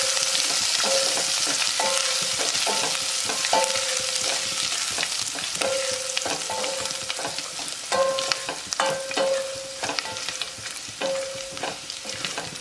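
Chopped ginger and green chillies sauté in a pan of oil for a Marwadi-style kadhi, a constant hiss broken by repeated ringing scrapes and taps of a spatula against the metal.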